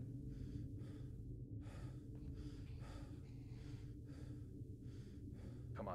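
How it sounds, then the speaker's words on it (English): Heavy, ragged breathing from a player during a tense Minecraft horror map, close and steady over a constant low hum, with gasping inhalations and no talk. "Stop breathing so heavy, damn it!"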